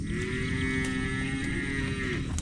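A long, low water buffalo moo drones steadily, close and loud, fading at the end.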